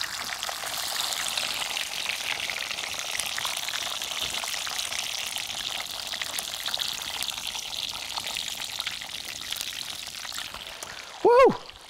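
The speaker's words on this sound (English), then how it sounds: "So you need a deep fryer for this." Frozen thick-cut pub-style chips deep frying in a deep fryer, a steady dense bubbling sizzle of oil heard close up throughout, with a brief voice exclamation near the end.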